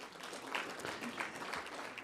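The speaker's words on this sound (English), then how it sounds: "ask that you give them a big round of applause once again" Applause from a conference audience for guests, a short burst of continuous, fairly faint clapping from a crowd.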